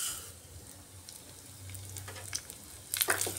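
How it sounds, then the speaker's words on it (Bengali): Mung dal frying in a little mustard oil in a kadai: a soft, steady sizzle with scattered crackles that grows louder and sharper toward the end, with no voices. "সামান্য সরষের তেলের মধ্যে মুগ ডালটা একটু ভেজে নিচ্ছি।"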